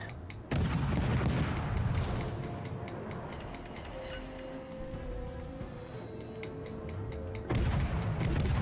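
Naval ship guns boom in World of Warships Legends, with two heavy salvos at the start and end and a rumbling battle backdrop between them, loud and close, with no talk.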